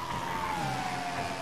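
A police car siren in the GTA RP video game, a steady wail that slowly drops in pitch as the car races past, heard alone over continuous engine and traffic noise.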